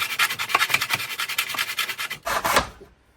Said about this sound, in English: cut a bit of this aluminium. 45 degrees